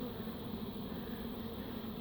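Honeybees swarming around a birdhouse hive, a steady close buzzing drone with no breaks, faint and continuous throughout.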